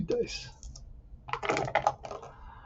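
Two dice rolled for a tabletop baseball board game tumble and rattle on a hard surface in two quick bursts of clattering clicks, close and fairly quiet, with faint talk around them.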